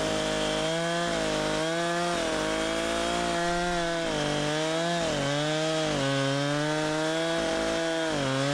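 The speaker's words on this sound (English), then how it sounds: "take the stick off and start sawing through" A chainsaw drones loudly and continuously, its pitch dipping and rising repeatedly as it bites into logs for firewood, with no voices.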